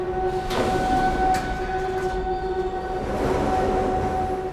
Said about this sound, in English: There is an outbound Local 3, train to 148th Street, approaching the station